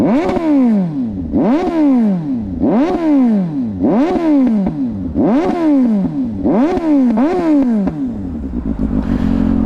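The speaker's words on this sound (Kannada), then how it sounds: "ಗಾಡಿ ಫುಲ್ ವಾರ್ಮ್ ಅಪ್ ಆಗಿದೆ. ಸಗಲಾಗಿ ಬರ್ತು ಗುರು ಸೌಂಡು." A warmed-up Suzuki GSX-S750 motorcycle engine revs hard in a regular series of about eight loud, close throttle blips, each rising and falling in pitch, before settling into a rough idle.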